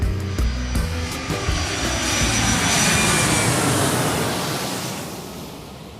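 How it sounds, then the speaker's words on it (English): A fixed-wing airplane takes off, its engine roar building to a loud, broad rushing drone that swells and then slowly fades into the distance. "make sure your tray tables and seats are in their upright positions as part 1 of Stacy's round trip story gets ready for takeoff"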